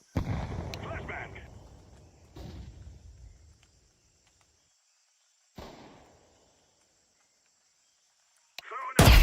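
Flashbang and grenade blasts in a video game: three separate bursts, each with a booming, fading tail, split by near-silence, the last one sharp and loud.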